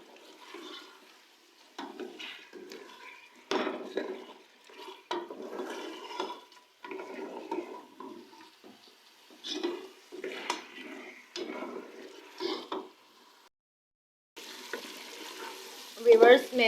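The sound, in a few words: meat being stirred and fried with spices for korma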